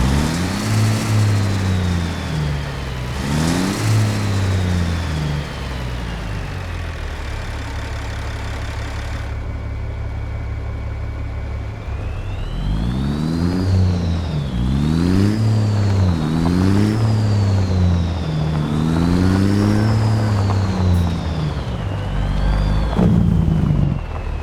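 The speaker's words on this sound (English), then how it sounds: "You hear that turbo whine in there." A heavy truck engine fitted with a modded sound pack in American Truck Simulator revs up and down repeatedly in loud, close surges, a steady turbo whine rising and falling with each pull and a brief idling lull midway.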